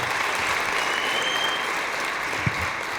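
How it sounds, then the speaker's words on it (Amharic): Dense, steady applause from an audience honoring an artist at a celebratory gift event, with a continuous broadband wash of many hands clapping at an even level for the whole stretch. "ጭብጨባው ደግሞ ይሄን ከፍ ያደርገዋል።"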